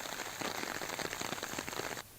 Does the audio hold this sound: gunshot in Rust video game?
no